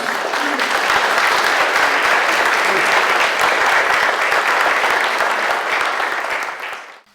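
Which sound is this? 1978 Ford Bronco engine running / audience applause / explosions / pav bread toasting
audience applause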